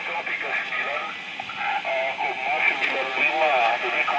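A 40-meter single-sideband voice signal comes through a Twinplex 6SL7 regenerative receiver as garbled, warbling radio speech with a steady thin tone behind it, continuous and fairly loud throughout.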